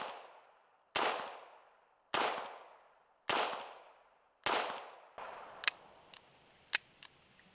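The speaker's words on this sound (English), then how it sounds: "So let's take some shots with some 9mm, see how it goes." Four loud, sharp 9mm gunshots from a Taurus 692 revolver, evenly spaced about a second apart, each with a decaying ring-out, followed by a few fainter clicks and small pops.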